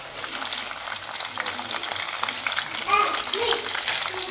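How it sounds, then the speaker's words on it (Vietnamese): Rice-paper spring rolls filled with shrimp and minced pork deep-frying in hot oil for a Vietnamese Tet dish, a steady dense sizzle with crackling pops throughout, close and continuous with no talking. "Đây, hiện tại là chúng ta đang chiên."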